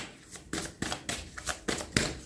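Tarot cards being shuffled by hand, with a run of soft papery riffles and slaps coming roughly every half second, close and fairly quiet, no talking.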